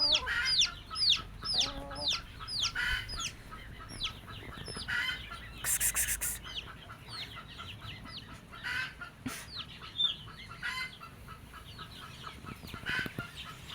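A broody hen clucks and chirps over her eggs and chicks in a busy coop, with short repeated calls overlapping and some scratching and rustling close by.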